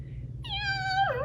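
A storyteller's voice imitates a cat's meow, one drawn-out, rising then falling call, close and clear, for a cat in a children's story about a rooster learning to crow.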